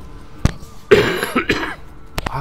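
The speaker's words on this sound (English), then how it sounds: "I'm coughing today." A single person coughs sharply a few times in a quiet room, close and fairly loud, with short pauses between the bursts.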